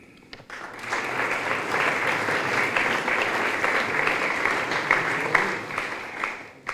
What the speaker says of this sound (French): je pense que nous pouvons les applaudir tous